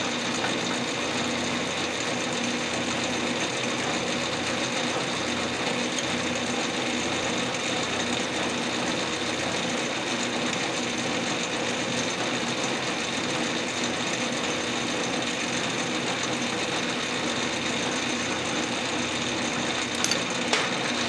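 A cutoff tool cuts through a carriage bolt during a gun rest modification, a steady, dense grinding whine that holds evenly for about twenty seconds up close, ending with a couple of sharp clicks and no talk.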